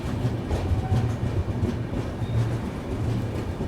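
The 12027 Shatabdi Express, running from Chennai Central to Bengaluru past Katpadi, rolls by close and loud, its heavy rumble broken by repeated rhythmic clickety-clack from the wheels over rail joints.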